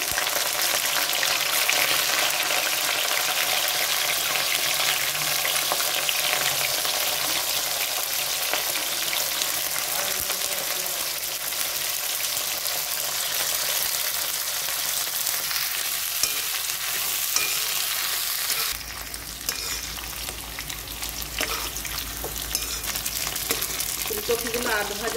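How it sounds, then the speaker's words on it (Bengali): Cauliflower pieces fry in hot oil, producing a loud, dense, continuous sizzle that is close up and unbroken throughout, with a slight change in tone near the end. "তেল গরম হয়ে এসছে। ফুলকপিগুলো প্রথমে দিয়ে দিচ্ছি।"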